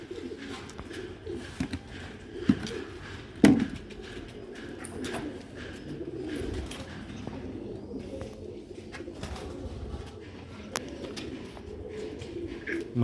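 Rooftop pigeons cooing in winter, soft low repeated coos scattered through the scene alongside light rustling and a few sharp knocks, fairly close with no clear speech.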